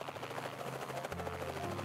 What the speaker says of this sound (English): It's a big green chopper called Marine One.